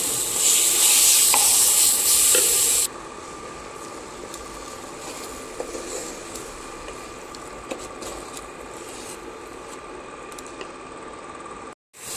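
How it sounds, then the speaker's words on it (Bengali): Dates stirred in warm ghee in a pan: a bright, close hiss with scraping for the first few seconds, then a softer, steady frying murmur with light stirring clicks. "এই যে ঘির সাথে খেজুরগুলো দিয়ে একটু নাড়িয়ে নিচ্ছি"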